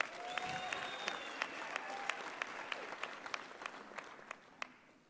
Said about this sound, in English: Shall you give yourself a big round of applause?